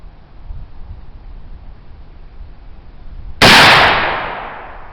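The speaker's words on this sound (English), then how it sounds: "second shot of our Buckthorn alder charcoal black powder" Homemade black powder made with buckthorn alder charcoal ignites in a single sharp, loud blast after a quiet lead-in, followed by a fading hiss and rumble.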